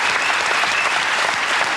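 Television studio audience applauds impressionists on a French comedy show, a dense steady clapping that stays loud and even throughout, with no talking over it.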